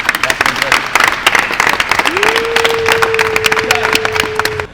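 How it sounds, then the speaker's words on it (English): Applause from a group at a gym training session, dense clapping filling the room with a steady sustained tone running through the second half. "So just one last round of applause"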